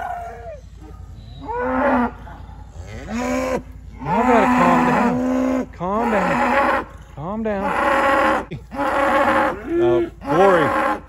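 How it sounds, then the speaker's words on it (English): Cattle moo loudly and repeatedly at a pasture gate where calves are being let in, long drawn-out calls one after another with brief gaps, close by, while a person speaks to the herd between them. "There's no reason to moo like that."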